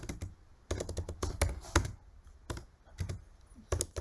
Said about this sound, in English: So I'm just gonna type it down here.